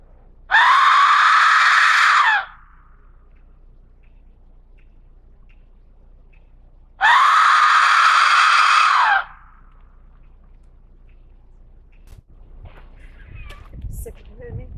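An Aztec death whistle blown hard, giving two loud, piercing, scream-like blasts about two seconds each, separated by a long pause, with faint handling noise and murmuring afterward.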